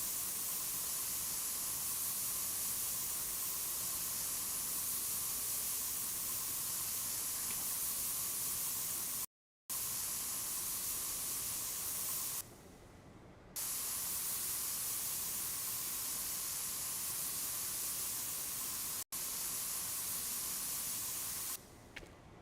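Steady broadband hiss of a spray can painting in Spray Paint Simulator, running continuously with a couple of brief dropouts and short pauses between passes, with no voices.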